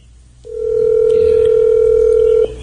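A steady telephone dial tone sounds loud and unbroken for about two seconds on a line that rings out unanswered, with faint low background hum before and after.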